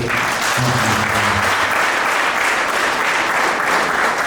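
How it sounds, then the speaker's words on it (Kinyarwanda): Wedding guests applauding at a Rwandan wedding, loud, dense and continuous clapping from a sizeable crowd, close and unbroken, with a faint voice briefly underneath at the start. "Abasangwa se mwahaye Imana amashyi rwose"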